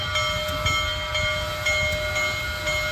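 A model train runs under power during a club layout demonstration, giving a steady mechanical hum and rumble with faint rhythmic clicks and a sustained whistle-like tone, heard alone without voices.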